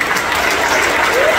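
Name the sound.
audience applauding a speech in Jaffna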